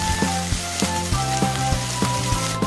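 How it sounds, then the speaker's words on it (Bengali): Two medium onions frying in a pan until crisp and brown for an egg korma, with a close, steady sizzle under a regular metallic knocking, probably from stirring. "দুটো মাঝারি সাইজের পেঁয়াজ বেরেস্তা করে নিতে হবে।"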